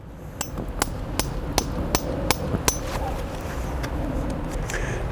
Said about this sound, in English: So now we're just going to gently hammer this spile into the tree.